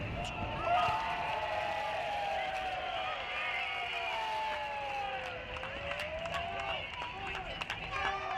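A crowd at an NCAA Division I college tennis match murmurs and cheers after a point, heard somewhat distant beneath a commentator talking throughout.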